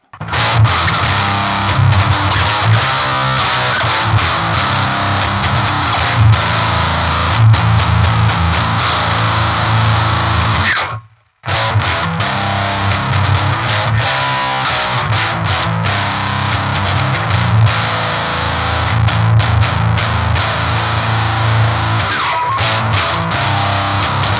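Electric guitar through a Boss HM-2 distortion pedal with all knobs at maximum roars loud and saturated, with a buzzing chainsaw-like tone, cutting out briefly before resuming.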